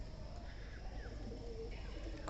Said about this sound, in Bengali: কবুতরগুলো অসাধারণ ডাকতেছে